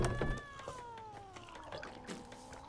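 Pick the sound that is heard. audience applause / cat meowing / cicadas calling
cat meowing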